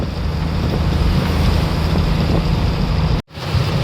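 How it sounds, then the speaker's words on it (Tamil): Steady, loud rushing noise like heavy rain driven by wind, constant throughout with a brief dropout near the end. "சடனாக மழை வளர்ந்து கட்டுது மக்களே வெளுத்து வாங்குது காற்றோடு சேர்த்து"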